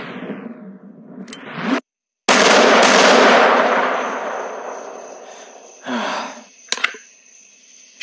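Sharp gunshots and blasts in the Western shooter game The Lawless burst loud and close: one big report with a long decaying roar, then scattered cracks and bangs afterward, no talking.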